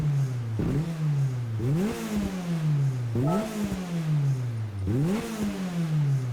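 The 2016 BAC Mono starts in Gran Turismo 7, then a loud, close engine revs up in repeated rising sweeps, settles to a throbbing idle, and blips again several times, with no voices.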